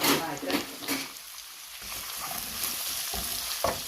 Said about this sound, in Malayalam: കറിവേപ്പില, പച്ചമുളക് ഒന്ന് കീറിയിട്ടിട്ട് ഇനി നമുക്കിതൊന്ന് വഴറ്റിയെടുക്കാം.